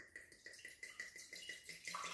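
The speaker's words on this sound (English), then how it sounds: "Step one, pour the wine into a can" Wine glugs quietly as it is poured into a can, a rhythmic series of soft bubbling pulses at close range with a faint liquid trickle and no voices.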